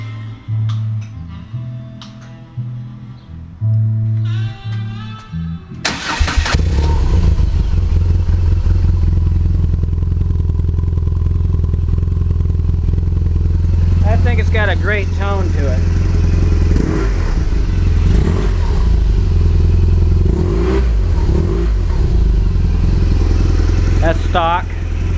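A BMW R1200GS motorcycle engine is started close by after a few moments of talking. It catches abruptly and settles into a loud, steady running idle with light mechanical clatter.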